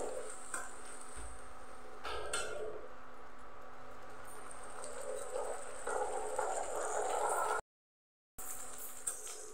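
Onions frying in a pan for chicken chana masala, a steady close sizzle with occasional stirring scrapes and a brief pause of silence near the end.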